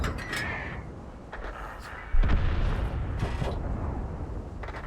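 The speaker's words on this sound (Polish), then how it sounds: "oddaje jakieś strzały na ślepo w e, miejsce, gdzie wydawać by się mogło, że ten waliant może stać" Tank cannon shots boom in the online game World of Tanks, one heavy blast and a few duller thuds amid rumbling battle noise, with someone commentating over them.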